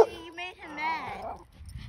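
A dog gives short yips and whining, howl-like cries at close range, with a person talking over it.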